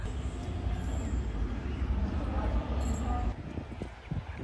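A Madurai Intercity train hauled by a WAP-1 electric locomotive rumbles along on the Pollachi to Coimbatore run, a loud continuous rolling roar that eases partway through into lighter clattering.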